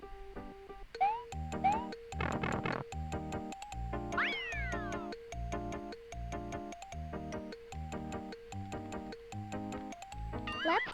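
In the SNES preschool game Mario's Early Years: Preschool Fun, a synthesized cat meows a couple of times, with rising and falling cries that sit over bouncy, rhythmic chiptune music.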